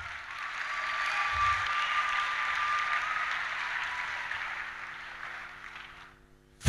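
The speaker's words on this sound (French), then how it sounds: "Acclamez maintenant." A seminar congregation bursts into sustained applause and cheering, a dense, steady wash of clapping that holds for about six seconds before fading, with a brief loud sound at the very end.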